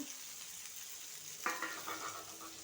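Coriander vada mixture fries over a low flame, a soft steady sizzle, joined midway by a brief scrape and clink of stirring in the pan, quiet and close with no voices.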